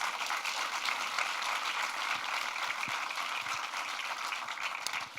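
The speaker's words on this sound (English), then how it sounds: "Let's give them a round of applause." Audience applause at a talk on the historic partnership involving Booker T. Washington, a dense steady clatter of clapping that carries through the whole stretch at moderate volume.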